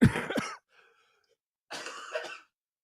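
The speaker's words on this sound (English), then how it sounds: "Every one of those big coughs" Two separate bursts of harsh coughing, close and loud, with a brief faint rasp between them.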